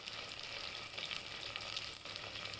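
Whole spices and garlic, including cloves and cinnamon, sizzling and frying in hot oil for rajma masala, a steady bright crackling hiss close up, continuous and even, with no voices.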